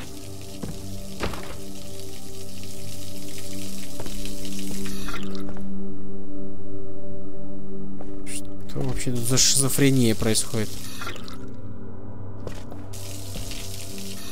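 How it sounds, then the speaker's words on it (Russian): Running water and drips from an automatic tap in the video game Observer, a steady flow with brief gaps, heard under a man's speech and game music. "Кран автоматический."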